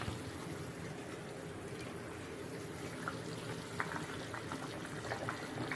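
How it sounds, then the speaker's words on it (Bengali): Katla fish curry jhol bubbling steadily in a pot over a gas flame, a continuous soft seething hiss with faint scattered pops, alone and unchanging throughout. "দেখো বন্ধুরা ঝোলটা ভালোভাবে ফুটছে"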